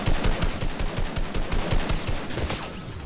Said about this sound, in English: I'm shooting him with one weird-ass gun.